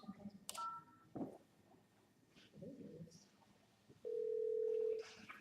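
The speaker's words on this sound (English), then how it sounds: "David, could you do me a favor and dial my number, 412-992-6740." Telephone keypad tones come from a desk phone during a phone-system training demo: a few short separate beeps, then a longer steady tone near the end, close and clear over faint room noise.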